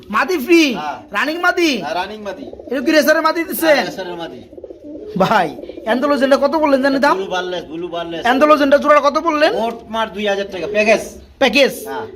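Egg-laying racing pigeons coo at a pigeon seller's stall, their soft repeated coos running beneath a man's steady, continuous talking.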